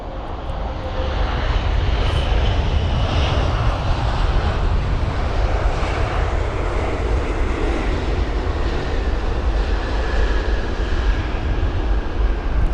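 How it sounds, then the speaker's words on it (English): A Boeing 777-200ER airliner lands at London Heathrow in gusty wind, a broad, steady roar of jet engines and rushing air holding at full loudness throughout with no voices over it. "the second heavy aircraft of the day, or right after the 747, is going to be the 777-200ER from Mumbai"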